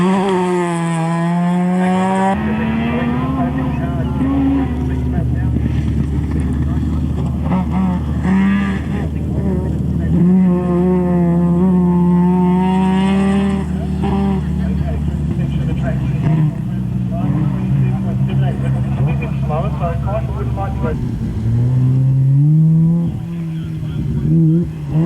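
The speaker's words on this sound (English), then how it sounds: "A lot of power from that rotary engine, don't they really go when you wind them up?" A rotary-engined race car at a hillclimb at Collingrove, South Australia, revving hard and shifting through gears, loud and continuous, with a commentator talking over it.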